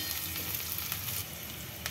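Roughly cut onion pieces frying in about 30 ml of oil over a medium flame, a steady dense sizzle with faint crackles and a few brief stirring pops, no voices.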